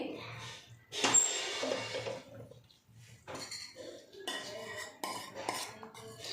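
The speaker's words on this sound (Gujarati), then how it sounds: "હવે એને આપણે સાઈડમાં મૂકીએ હવે બીજી એક મોટી કઢાઈ લઈએ" A large metal kadhai and utensils clank and scrape in a home kitchen during adadiya pak preparation: repeated sharp clinks and knocks, loudest near the start, with a voice talking throughout.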